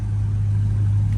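A warmed-up catless Dodge Scat Pack idles, heard from the front of the car as a steady deep low rumble, smooth and constant, close and fairly loud with no talk.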